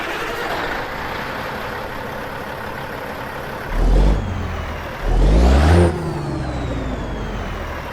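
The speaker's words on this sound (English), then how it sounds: "We're using Creech Bomb's sound pack for the 3406E 500 horsepower in this bad boy with the Eaton Fuller 13 speed." A Caterpillar 3406E 500 hp truck engine with an Eaton Fuller 13-speed in American Truck Simulator idles with a steady rumble, then revs twice in short, loud surges before settling back to idle.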